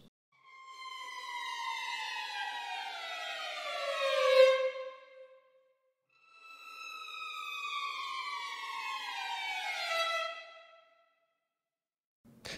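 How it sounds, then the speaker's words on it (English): Two long bowed violin downers from a sample library, each a rising harmonic-rich tone that bends downward over about two bars, the second following after a short gap, loud and alone with no voices. "So these are the 10 violin arco downers"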